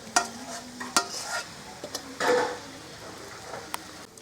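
Roasted spices stirred in a hot pan: several sharp metallic clinks and scrapes of a spatula against the pan over a soft sizzle, close and distinct.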